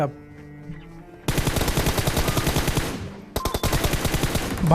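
Automatic gunfire in the mobile battle royale game PUBG Mobile: two long, loud rapid-fire bursts of evenly spaced shots, split by a brief pause, following a short opening voice.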